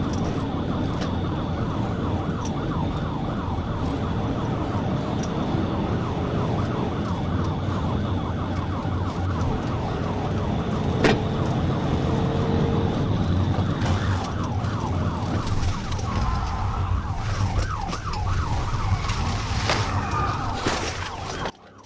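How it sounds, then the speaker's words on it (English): A police car siren wails continuously during a high-speed pursuit, loud and close, its rapid cycling yelp running steadily over engine and road noise for the full stretch. "I activated my emergency lights and siren"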